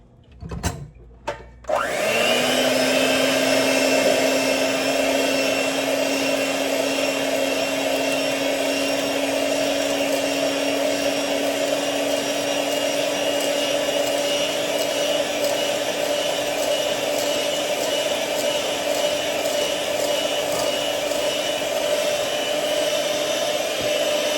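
Electric hand mixer whisking chocolate chip cookie dough in a bowl, starting with a few short bursts and then running as a steady, loud, continuous whine throughout, close by with no talking.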